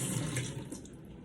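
A handful of blueberries is rinsed under a running kitchen tap, a steady close splashing rush of water for a brief moment.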